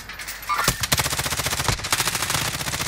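Rapid automatic gunfire in a video game firefight, dense repeated shots sustained for the full stretch, loud and close with no talking over it.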